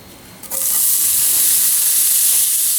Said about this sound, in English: I've got a hot pan here. I'll start by sauteing my onions.